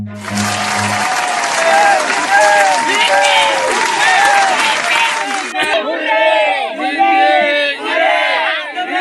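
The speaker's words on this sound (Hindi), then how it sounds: "जोरदार ताली के साथ" Loud, dense audience applause with whoops and cheering fills the whole stretch, thinning into scattered clapping near the end, recorded at a Chhattisgarhi comedy show.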